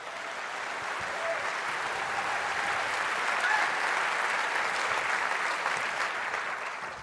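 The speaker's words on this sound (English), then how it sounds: "this is your applause, Marcello" A large conference audience on a main stage applauds a speaker's introduction, a broad, even roar of clapping that swells slightly around the middle and sustains for the full stretch.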